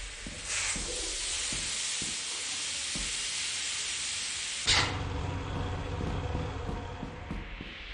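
Steam hissing inside a facility in the game Lethal Company, a steady loud broadband hiss with a sharp louder burst midway, then continuing with a rumbling undertone.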